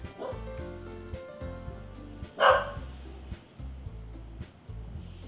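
A pet dog gives a single sharp bark in the room, loud over looping, plinking video game music that continues throughout.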